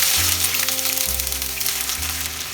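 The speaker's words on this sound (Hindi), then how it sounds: "तेल गरम हो गया, अभी हम प्याज फ्राई करेंगे।" Chopped onions fry in about two tablespoons of hot mustard oil over a high flame for Bengali kosha mangsho, a loud, steady, dense sizzle with a low hum beneath and no talking.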